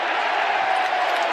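Football crowd at an AFL match between North Melbourne and the GWS Giants, 2022 round 13, roaring in a steady, dense wash of cheering from a large stadium throughout.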